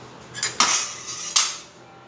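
A utensil clanks and scrapes against a pan while prawn curry is mixed with salt, two or three sharp metallic hits close by, with no talking.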